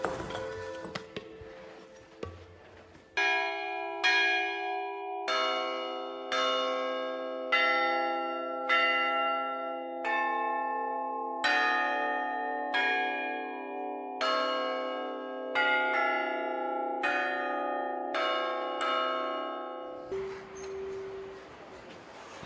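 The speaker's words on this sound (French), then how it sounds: "La sonorité d'une cloche est déterminée par plusieurs paramètres." Church bells ring out a melodic sequence of clear, resonant metallic strikes, each note ringing on and overlapping the next. The bells sound loud and close, with a bright shimmer that lingers before falling quiet.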